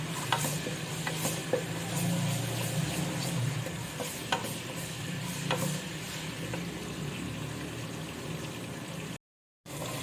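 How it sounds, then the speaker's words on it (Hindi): Steady oil sizzle and frying crackle of ginger and garlic for beef karahi, with occasional stirring scrapes, close and continuous, with no one talking. "अदरक लहसुन को थोड़ा फ्राई कर लेंगे ऑयल के साथ"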